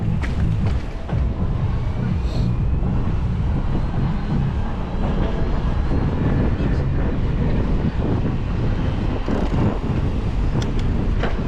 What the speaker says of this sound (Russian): Ветер, да.